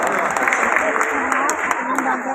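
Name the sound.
audience applause at a poetry gathering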